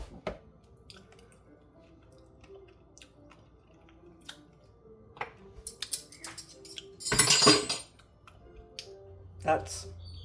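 Tasting spoon knocking against a bowl of kimchi sauce, a handful of light metallic clinks scattered over quiet room tone, with one denser scraping burst in the middle and soft talk around it.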